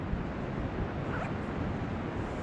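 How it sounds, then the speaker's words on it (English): Steady roaring Pacific surf at Kalaloch, a dense continuous wash of waves with wind buffeting, loud and unbroken throughout. "The sound you hear in the background is the sound of the ocean."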